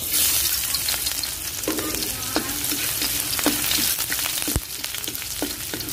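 Garlic fries in hot oil in a pan while a big sea snail dish is prepared, giving a loud, steady crackling sizzle with scattered pops and a few stirring scrapes close by.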